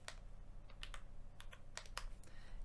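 Keys clatter on a computer keyboard as a Linux terminal command is typed, a handful of separate close taps spaced irregularly over a steady low hum, with no voices.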